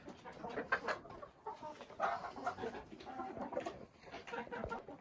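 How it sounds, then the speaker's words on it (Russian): A mother hen clucks inside a chicken coop, soft repeated clucks and rustling, with other birds faintly around. "Вот маманька наша вышла, квохчилка."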